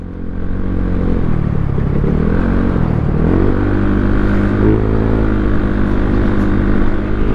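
A Yamaha Mio Sporty 115cc scooter engine, said to have a factory defect, roars loud and close at high speed, a sustained droning whine that dips briefly then holds steady over rushing wind.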